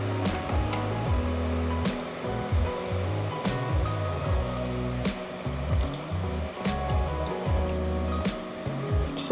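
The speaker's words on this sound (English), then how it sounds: "So we're getting a nice boil going here" Wine sauce boiling in a pan, a dense continuous bubbling and popping with lapping pulses throughout, close and fairly loud, no voices.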